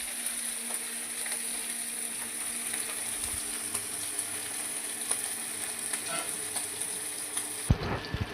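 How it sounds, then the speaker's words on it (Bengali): Hilsa fish frying in hot oil, a continuous faint sizzle and crackle with small spits of oil, steady throughout before a brief clatter near the end. "ইলিশ মাছটা তেলে ছাড়তে ছাড়তে হাতের মধ্যে তেল ছিটে আসলো"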